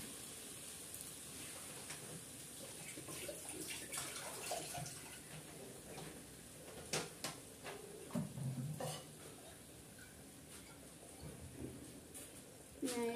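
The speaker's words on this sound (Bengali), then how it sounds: "না এখানে আমি জল দিয়ে দেব" Water is poured into a pan of frying dal with tomato, giving a soft sizzle and stirring splash with a few sharp clinks of the pan, fairly quiet and with no talking.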